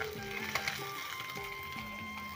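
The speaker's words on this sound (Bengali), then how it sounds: "এদিকে দিলাম মাছ ভাজা করতে, আর এদিকে শাক ভাজাটা বসিয়ে দিলাম।" Fish and leafy greens fry in pans, a continuous close sizzle with light stirring and scraping and a tonal hum running underneath.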